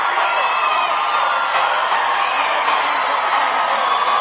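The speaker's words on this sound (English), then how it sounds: "This is just a lot of screaming." A crowd gathered outside a courthouse after a verdict in a high-profile murder trial screams and cheers, a loud, dense, continuous roar of many voices with whoops running steadily throughout.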